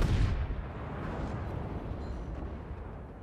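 Secondary battery guns of the battleship Texas firing during a World of Warships naval battle, heard as a dense rumbling barrage of booms that stays loud and continuous with no clear gaps between shots.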